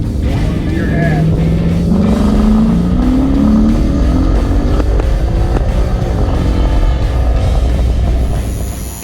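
A Ford Mustang GT S550 running nitrous accelerates hard, its engine roaring loudly and climbing steadily in pitch through the gears for several seconds, close up from inside the car, then easing off at the end.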